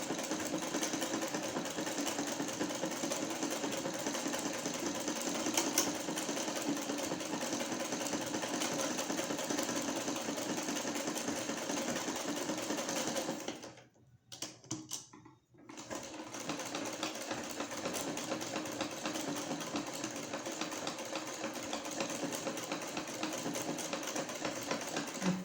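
A sewing machine runs steadily as it stitches along the buckram edge of a front-open jacket-style kurti, a continuous close motor whir that stops briefly for about two seconds midway, then resumes.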